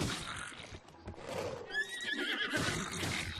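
A horse in The Legend of Zelda: Breath of the Wild neighs loudly with a shrill, wavering whinny, followed by muffled hoof sounds and shuffling.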